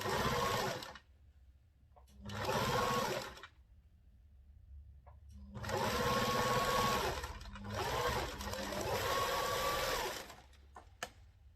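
A sewing machine stitches blouse panels for a princess-dart bustier blouse with a panelled peplum, running in four bursts of steady whirring separated by quiet pauses as the fabric is turned, close and fairly loud with no talk.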